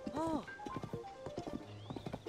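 A horse in the video game Zelda: Tears of the Kingdom, with a sharp whinny at the start followed by hooves clip-clopping in a quick rhythm, close and clear, with other game sounds layered around it.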